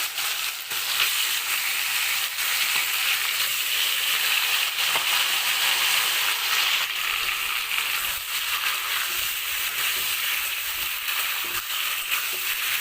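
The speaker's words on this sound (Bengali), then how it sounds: "এবার তেলের মধ্যে মাংসটা ভালোভাবে ভেজে নিচ্ছি" Marinated chicken frying in hot oil with whole garam masala and melted sugar, a loud dense sizzle and crackle sustained close up with occasional stirring.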